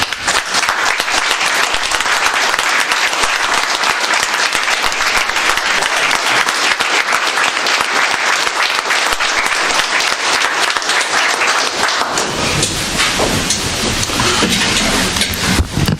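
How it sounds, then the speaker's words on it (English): Loud, sustained applause from the audience at a Baldwin County Commission regular meeting, dense clapping filling the room without pause for about twelve seconds before thinning into scattered claps and fading. "I'd like to give you another round of applause."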